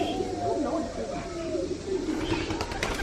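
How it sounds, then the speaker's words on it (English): Doves cooing among other birds inside an aviary at a bird park, with wingbeats and flutters near the end, heard under steady background talk from visitors. "All the birds are in here flying around. I think they're doves."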